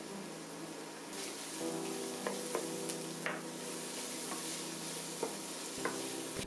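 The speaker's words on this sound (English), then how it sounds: "Next, I'll add in a couple cloves of minced garlic. I'm going to saute that until it's fragrant." Minced garlic sautés in a pan with softened onions for an Estonian savory pumpkin casserole, making a soft, steady sizzle broken by repeated light scrapes and taps of a stirring utensil.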